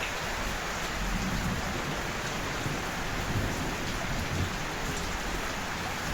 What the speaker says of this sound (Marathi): परत वाढायला लागलाय पाऊस